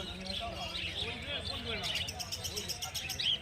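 Finches and budgerigars at a bird market, including Gouldian and zebra finches, give repeated high chirps and tweets throughout a busy crowd. Market chatter is mixed in.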